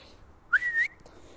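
A sharp whistled command to working dogs on a countryside walk, a single rising then held tone lasting about a third of a second, clear and fairly close.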